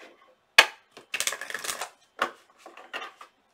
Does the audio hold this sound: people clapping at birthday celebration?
no